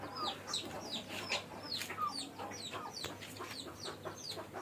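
Native chickens on a farm, including young birds grown quite large, cluck and squawk repeatedly in quick, overlapping calls at moderate distance, with no talk.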